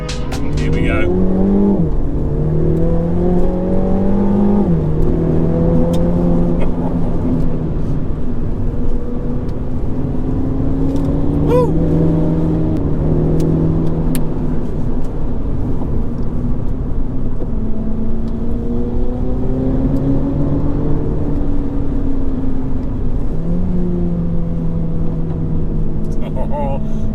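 A car engine held at full throttle, then lifting off so the exhaust spits flames, its loud steady roar sweeping up and down in pitch over the whole stretch, with people talking over it.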